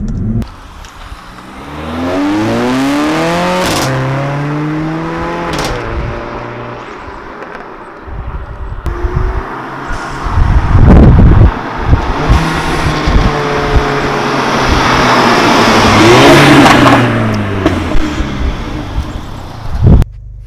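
A 360 bhp Mercedes A45 AMG with a performance exhaust revving on a country road during launch control, rising and falling engine notes, a sharp loud burst of acceleration midway, then further revving up close.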